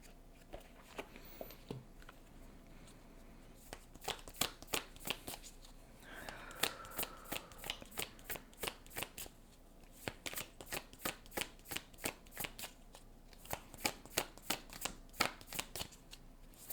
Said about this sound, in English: I'm going to pull from the Moonology deck next for you guys.